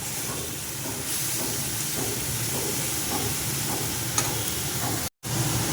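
Chickpea greens mixed with spinach fry and hiss in a pan while being stirred in a rhythmic pattern of soft scrapes. The sizzle cuts out for a moment near the end.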